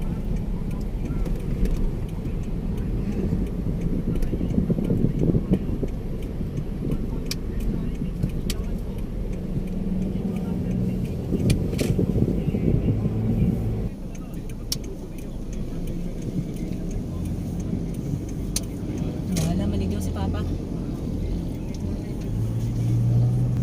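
Inside a moving car, a steady engine and road hum runs throughout, dotted with faint ticking, while people talk on and off over it.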